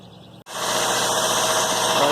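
A Toyota car engine idles, heard close up: after a brief quiet moment a steady, even hum and rattle starts abruptly and holds, growing slightly louder.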